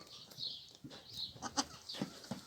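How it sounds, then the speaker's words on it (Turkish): Young lambs and goat kids bleat in short, high cries, several overlapping at moderate distance in a quiet outdoor highland pasture setting. "bunlar davara gitmiyor küçük kuzular ve oğlaklar"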